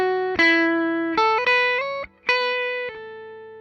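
An electric guitar, a 2025 Gibson 61 SG Standard MOD Collection with hot ceramic pickups, plays a short run of distorted, sustained notes and chords through effects. It sounds loud and close, with one brief gap between phrases.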